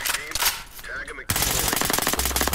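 Rapid automatic gunfire in the tactical shooter game Ready or Not, a loud, dense rattle of shots that breaks off abruptly midway and then resumes as a continuous burst.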